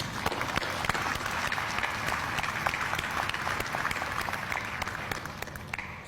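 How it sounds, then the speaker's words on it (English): A crowd at a formal military event with an honor guard breaks into sustained applause, a dense, even wash of many hands clapping that holds steady throughout. "Please join me in a round of applause."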